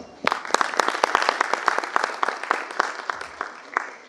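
Audience applause after a founder's $6.5 billion company sale is announced, a dense burst of many clapping hands that starts abruptly and holds steady close by, with no voices over it.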